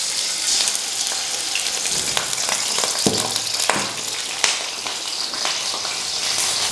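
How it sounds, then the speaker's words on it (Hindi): Half a kilo of chicken dropped into hot cooking oil in a karahi sizzles and crackles steadily, with sharper spattering bursts as the pieces hit the pan and are stirred, close and fairly loud with no talking. "तो अब हम चिकन को इसके अंदर ऐड करेंगे।"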